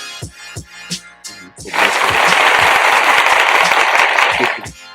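A small podcast group breaks into dense, steady hand clapping after a few scattered opening claps. The applause stays loud and sustained for about three seconds, then cuts off sharply.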